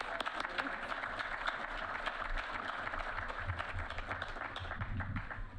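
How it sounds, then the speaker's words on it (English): A steady crowd applause at an award ceremony, many hands clapping continuously at moderate loudness without a break. "Now, a round of applause."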